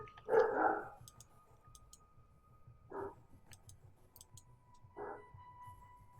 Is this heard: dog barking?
yes